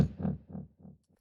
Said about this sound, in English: I call it like the low pass bass, or the whoop whoop whoop